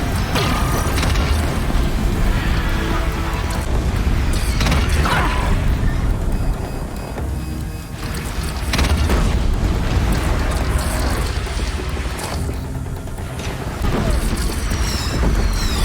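Heavy cannon fire from the video game Horizon Zero Dawn, loud repeated booms and mechanical crashes over a continuous roar of battle, sustained and dense across the whole stretch.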